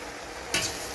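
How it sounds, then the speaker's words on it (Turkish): Green beans hit a pan of fried onions, setting off a sudden burst of loud sizzling that settles into a steady hiss of frying. "Ben fasulyemi içerisine atıyorum."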